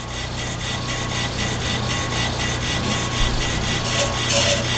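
The cutting bit of a BL500 brake lathe scratches across a brake rotor surface, a steady, continuous rasping hiss with a faint whine running through it, loud and unbroken, with no talk.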